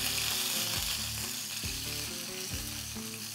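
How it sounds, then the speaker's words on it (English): Eye of round beef sears loudly in a hot skillet, a steady dense sizzle broken by a few louder bursts as the meat is shifted and turned. "now we're searing it up"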